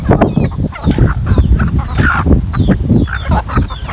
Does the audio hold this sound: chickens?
yes